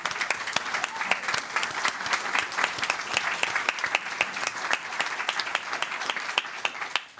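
Applause from attendees at a regular board meeting, a fairly quiet but steady round of many hands clapping with distinct individual claps, holding evenly before tapering off at the close.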